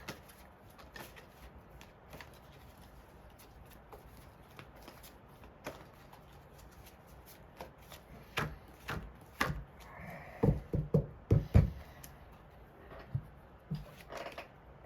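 A Psychic Oracle card deck is handled quietly at first, then shuffled in a burst of riffling and soft tapping knocks in the latter half, close and alone without talk.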